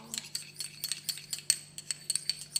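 A spoon mixing facial paste in a bowl, quick irregular clinks and scrapes repeating close and soft in a quiet room, with no talk over them.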